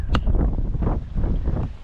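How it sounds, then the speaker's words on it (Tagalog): Strong wind buffets the microphone in a loud, low, rumbling roar that rises and falls in gusts. "Lakas ng hangin, Diyos ko."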